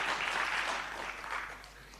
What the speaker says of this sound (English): Shall we please give him another round of applause?